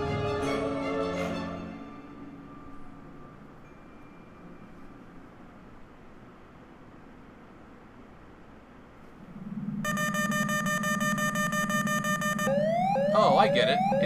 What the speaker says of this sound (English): It's the nothing's happening alarm.